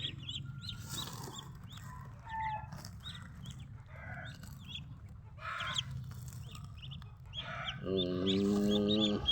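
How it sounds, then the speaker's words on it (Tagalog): Hens cluck in short repeated bursts with high peeping chicks scattered throughout, close by, ending in a louder drawn-out squawk. "Bagong sisiw natin yan, mga kapato."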